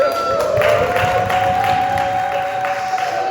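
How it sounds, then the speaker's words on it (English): Applause from the crowd at a monthly community board meeting welcoming a community elder, steady clapping throughout with a sustained tonal hum running underneath and some crowd noise. "I want to give a welcome applause to Miss Vivian Wright"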